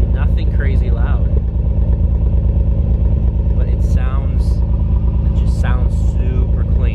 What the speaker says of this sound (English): We've got a limited edition HKS exhaust here. You can hear it is nothing crazy loud.